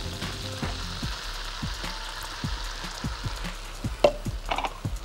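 Water poured onto garlic frying in a pan, a dense sizzling hiss broken by a series of sharp, regular spits and pops, close and fairly loud, with no one speaking.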